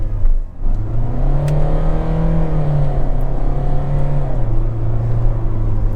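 A 2025 Hyundai Venue diesel with a torque converter automatic gearbox accelerates, its engine hum rising steadily, then dropping at a paddle-shifted gear change, heard loud from inside the cabin without talking.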